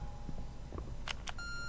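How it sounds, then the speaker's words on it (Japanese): A phone rings inside the Home Sweet Home horror video game, heard as a few short, bright electronic tones over a low background hum, followed by a sustained steady tone near the end. "待て、電話だな。"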